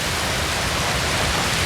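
Steady, dense rain hisses evenly in the Totally Accurate Battle Simulator map creator, a continuous downpour with no breaks or other sounds.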